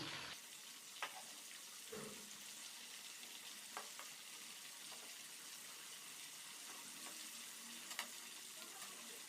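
Chicken pieces fry in a pan of hot oil with a steady, quiet sizzle, broken by a few faint clinks and stirring sounds, and no talking.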